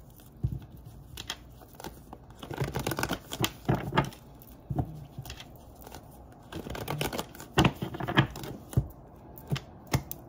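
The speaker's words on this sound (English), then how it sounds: "Two more shuffles for Aries in their current situation." A deck of tarot cards is shuffled up close, giving quiet clusters of crisp riffling clicks and slaps in irregular bursts with short pauses between them.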